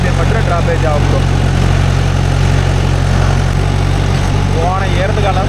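A Mahindra 415 DI tractor engine runs at a constant rpm on farmland, producing a loud, steady, close low-pitched drone with no change in pitch, while a voice talks over it throughout.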